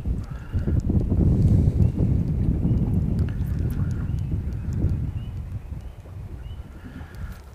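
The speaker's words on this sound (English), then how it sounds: "Starting to get that wind." Gusty wind buffets the microphone outdoors while fishing, a loud low rumble that swells and eases over several seconds, with faint thin sounds in the background.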